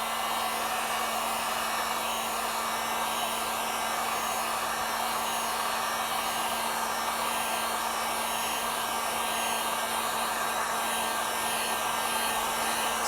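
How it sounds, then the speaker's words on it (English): A heat gun blows steadily on a snowmobile knee pad panel for an Arctic Cat Catalyst, a constant, even whoosh with a faint tonal hum that runs unbroken throughout with no talking. "And we're going to apply heat with our heat gun."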